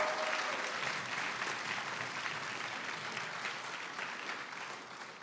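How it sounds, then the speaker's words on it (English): An audience at a live pitch competition final gives a sustained round of applause, dense clapping that stays loud throughout and fades slightly toward the end. "So we want a round of applause for them as well."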